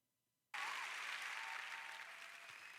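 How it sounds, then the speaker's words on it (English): Crowd applause bursts in abruptly after a moment of silence at a music showcase, loud and dense clapping that holds steady and eases only slightly by the end. "Appreciate the round of applause."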